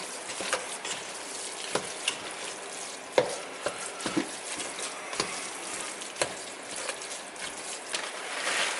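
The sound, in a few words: taco meat and cream cheese cooking in pan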